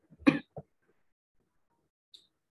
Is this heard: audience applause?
no